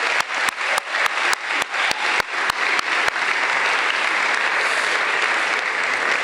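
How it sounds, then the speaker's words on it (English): An audience at a school fall athletic assembly claps: a dozen sharp, evenly spaced claps open the burst before it blends into dense, steady applause filling the hall, loud and close, with no talking. "So a big round of applause to all those people I mentioned"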